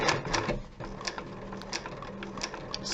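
A sewing machine stitches a bag at very slow speed, giving a soft, steady ticking of separate needle strokes, close by and with no talking.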